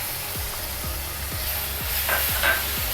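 Ground tomato paste sizzling softly in a pan while a utensil scrapes and stirs through it in regular strokes, about six evenly spaced scrapes over a low, steady hiss.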